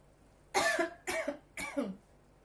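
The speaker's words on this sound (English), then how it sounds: "I think you know the word cough" Three sharp coughs in a row, each a short harsh burst with a brief gap between, fairly close and loud against a quiet background.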